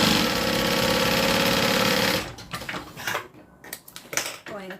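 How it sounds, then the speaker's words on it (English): A sewing machine runs in a fast, steady stitching rhythm for about two seconds, then stops, leaving scattered handling clicks and rustles of fabric. "it's a little bit easier for my sewing machine to get through"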